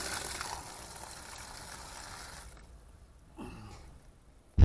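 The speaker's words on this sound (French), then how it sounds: "Je vais rincer un coup." Cucumber seeds are rinsed in water: a steady close stream runs and splashes for about two and a half seconds, then cuts off, leaving a brief soft swish before a knock at the end.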